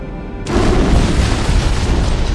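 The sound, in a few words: antimatter charge explosion on ship in Halo: Combat Evolved video game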